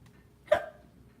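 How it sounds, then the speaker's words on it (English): A single short hiccup pops out from a person doing their makeup, one quick close burst in an otherwise quiet room. "Oh, hiccups, no."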